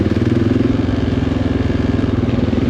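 An XR600 off-road motorcycle rides close by on a trail trip in the Hanthana hills of Sri Lanka, its single-cylinder engine thumping in a fast, steady pulsing rhythm that stays loud throughout.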